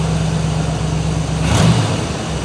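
A 1967 Buick Riviera V8 with a lingering carburetor fault runs close by at a steady, rough idle, then gets a brief blip of throttle that lifts and drops back.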